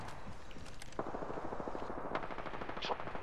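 Fast, rattling bursts of automatic gunfire sound in a shooter video game, fairly quiet and steady, with rapid repeated shots and a few sharper bangs standing out from the background.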